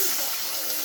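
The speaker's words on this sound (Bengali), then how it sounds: "এখানে আমি 2 বাটি জল দেব।" Two bowls of water are poured into a hot cooking pan, giving a short, steady, close hiss of water hitting the metal.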